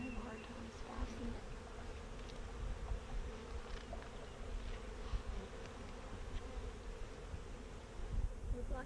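A steady, dense hum of many honey bees buzzing together, continuous and moderately close, with faint scattered clicks and no talking.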